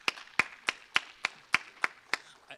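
One person claps alone at a budget meeting, eight sharp, evenly spaced hand claps at a moderate pace, close and distinct with quiet room tone between them.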